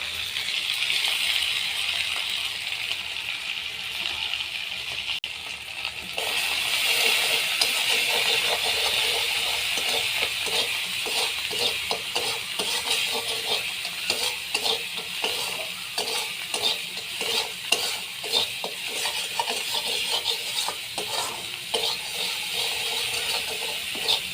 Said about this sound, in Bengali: মশলা ভাজা হয়ে গেছে এবার জল দিয়ে দেবো